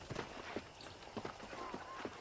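Horse hooves in the Western video game Red Dead Redemption, a faint, steady clip-clop of a trotting horse over a quiet background.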